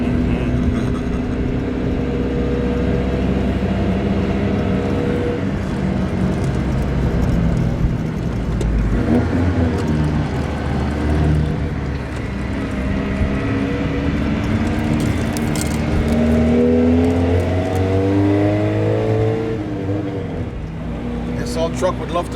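A 1942 Ford pickup truck drives along, its engine a steady low rumble with rising and falling tones as it shifts and accelerates, continuous and close inside the cab, with someone talking over it.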